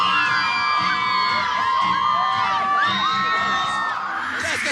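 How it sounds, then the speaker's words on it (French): A crowd cheering at a comedy gala, loud and continuous, with piercing whistles and scattered whoops rising above a dense roar of voices throughout. "On va s'approcher de la foule."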